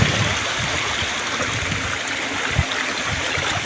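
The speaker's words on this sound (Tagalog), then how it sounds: "Dako kayong baha di ani guys" Rushing water of a small stream swollen by heavy rain, a steady broadband wash with occasional low gurgles and splashes, close and continuous with no talk.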